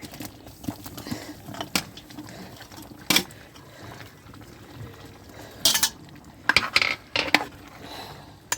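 Chicken curry with fried onions being stirred in a pot, scraping and clinking in scattered bursts, with louder clatters near the end over a quiet kitchen background.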